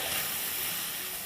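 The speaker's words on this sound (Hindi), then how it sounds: "ऑयल जो भी है वो सिजल कर रहा है, दिख रहा है।" Oil sizzles in a pan of stir-fried keema with vegetables, a steady soft broadband hiss that holds evenly through the short moment with no voices.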